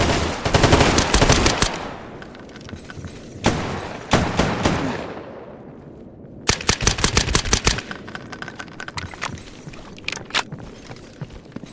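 Automatic gunfire in the video game Stalker GAMMA comes in loud, rapid bursts, a long volley, then short ones, then a sustained stretch, with quieter gaps and faint footsteps between.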